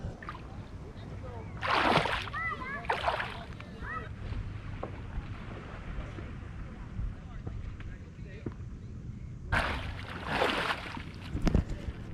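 Splashing in lake water as a person dives and swims, with two loud bursts of churning water near the start and another pair near the end, wind buffeting the microphone between them.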